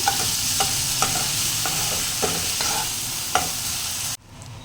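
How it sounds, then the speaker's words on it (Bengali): Onion frying with green chili and ginger-garlic paste in a pan for egg and prawn khichuri: a steady sizzle broken by about eight regular spatula scrapes, then a sudden cut to near silence. "এই সময় আমি দিয়ে নেব লঙ্কা আর আমি এখানে দিয়ে নেব আদা রসুনের পেস্ট। একটু ভাজা ভাজা করে নেব।"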